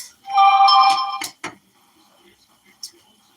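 A mobile phone ringtone plays loudly and close as a short bright melodic chime, followed by a couple of clinks of kitchen utensils and a faint later chirp.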